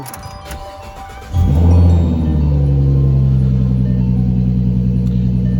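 A 2014 Mustang V6 with an inexpensive aftermarket intake and deleted mufflers cranks and fires, its engine catching with a loud burst and then settling into a deep, steady, rumbling idle close by, with no voices.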